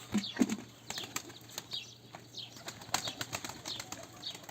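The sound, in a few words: Kayseri play pigeon flapping wings while landing on roof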